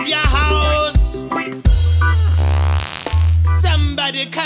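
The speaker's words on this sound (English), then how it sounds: "It's Mr. Fart stinking up your house." Loud, long, buzzy fart sounds in a comedic reggae fart song, several drawn-out blasts in a row with short gaps between them.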